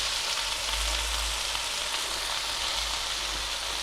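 Spinach going into a hot pan for aloo palak methi throws up a loud, dense, continuous sizzle and hiss with no pauses, heard close up and alone.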